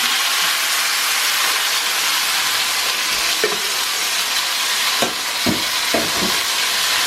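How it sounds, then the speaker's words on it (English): Pepper steak sizzles and browns in hot butter in a pan, a loud steady hissing fry with a few soft knocks and stirring scrapes near the end. "I'm going to brown this pepper steak in brown butter."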